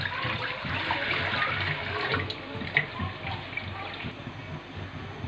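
Water pours steadily into a kadai in a home kitchen while haleem is prepared, a continuous splashing rush running the whole time without any talk.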